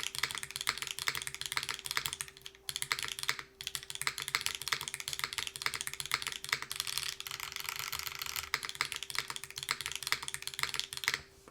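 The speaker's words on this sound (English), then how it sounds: "Here is going to be how it types and sounds like in the top mount config with the same switches" Mechanical keyboard in a top-mount configuration with no foam, typed on continuously in a fast, dense clatter of keystrokes, close and moderately quiet, with no voices.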